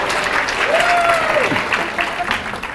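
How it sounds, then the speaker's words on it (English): Audience applause at a German Shepherd dog health seminar, a dense burst of clapping from a room of listeners, steady and fairly loud, with a brief tonal squeak mid-way. "How about some applause?"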